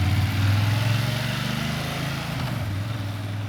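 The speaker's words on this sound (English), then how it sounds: "there goes Kevin on his big BMW" A big BMW motorcycle pulls away, its engine a steady loud low drone that shifts pitch as it rides off, with no voices over it.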